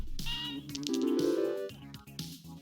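Lucky cat meows in the slot-machine game Luck be a Landlord, a short synthesized meow sequence of a few tonal cries, clear and close with no talking.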